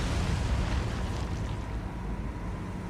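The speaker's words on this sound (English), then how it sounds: "Okay, they're exploding." Depth charges bursting underwater in the naval video game War on the Sea, a sustained deep rumbling roar of explosions heard close and loud throughout, with no talk.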